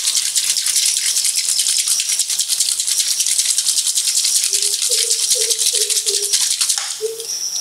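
A Kent Gold Plus UF water-purifier membrane cartridge, with about 50 ml of water injected inside, is shaken by hand during cleaning, giving a steady, close, rapid rattling and sloshing that continues for several seconds without talk.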